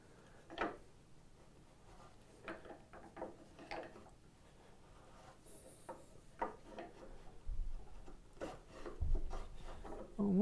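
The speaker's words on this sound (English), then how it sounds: "I'm actually going to do a shoulder with my shoulder plane" Shoulder plane cutting a shoulder in wood for a half lap joint, giving a series of short rasping strokes at close range, some louder than others, with faint low bumps and handling noise between them.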